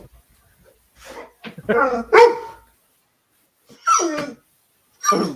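A dog barks and yips close by in short bursts, a cluster of rough barks followed by two separate higher yelping calls after brief pauses, loud against a quiet room.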